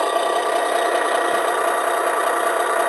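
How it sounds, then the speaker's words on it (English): A steady, buzzy engine-start sound from a 2019 Hess toy tow truck, running continuously at an even level, loud and close, with no voices. "that's the engine actually starting"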